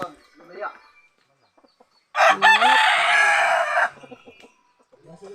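A rooster crows once, loud and close, a long harsh cock-a-doodle-doo lasting nearly two seconds, with quiet talk before and after.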